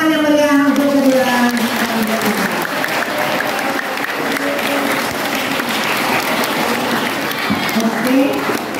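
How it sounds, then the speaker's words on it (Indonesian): A school audience at a student council debate for middle school candidates applauds warmly and continuously, with a voice heard briefly at the start over the clapping. "tepuk tangan yang meriah untuk kedua"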